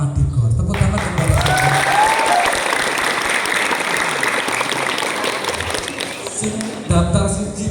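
A crowd at a school ceremony in a sports hall breaks into loud, sustained applause that swells right after a voice and holds steady before talking resumes.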